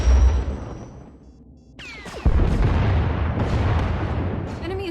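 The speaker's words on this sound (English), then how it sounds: "Enemy is firing. Turbo lasers, missiles, and what looks like transport pods." Turbo lasers and missiles firing in a Star Wars: The Old Republic space battle: a heavy boom, a rising whine, then a loud sustained blast rumbling on.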